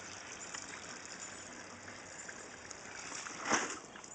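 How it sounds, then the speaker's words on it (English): Water dumped out of a pond filter splashes and pours steadily, with a louder gush near the end, fairly close. "we're going to dump out some water to make it a little lighter"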